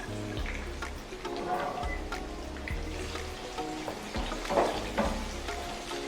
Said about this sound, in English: we'll just let this fry for a while